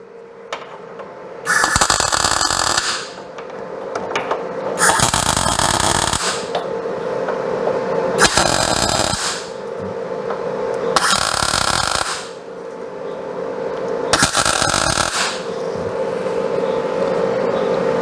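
Welding an engine mounting bracket onto a cross member: five separate crackling, hissing weld bursts of about a second and a half each, evenly spaced over a steady background hum, loud and close.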